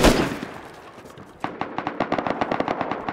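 Rust video game gunfire in a clan battle on a server: a loud initial blast and its decay, then a rapid, steady burst of automatic shots that rattles close and sharp.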